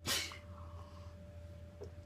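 A single sharp sneeze bursts out close by, followed by a faint breath in a quiet room.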